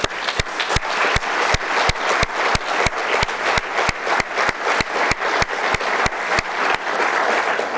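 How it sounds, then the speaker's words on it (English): A crowd at a 2015 State of the City address applauds with sustained clapping, punctuated by strong, regularly spaced claps that give it a steady rhythmic beat throughout. "I'd like to give them a round of applause"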